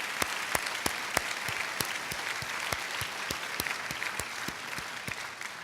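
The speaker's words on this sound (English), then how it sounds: "I'd like to give you all a round of applause." A gala crowd applauds standing board members at an education leadership awards program with sustained clapping, individual sharp claps standing out near the microphone in a steady rhythm over the dense wash.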